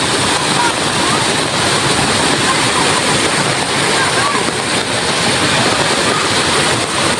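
Water rushes hard over a brimming village dam after heavy rain, a loud, unbroken roar heard up close throughout.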